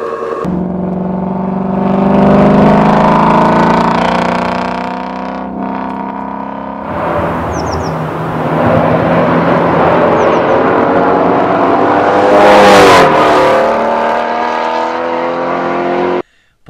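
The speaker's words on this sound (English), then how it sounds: "it was honestly one of the nicest sounding cars I have ever heard. I heard it, I saw it coming. I went by, I said, that's a GT350" A Ford Mustang GT350 roars past with a loud, rising engine note that swells as it approaches, peaks sharply, then trails off as it drives by, with no talk over it.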